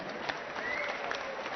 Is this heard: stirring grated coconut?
no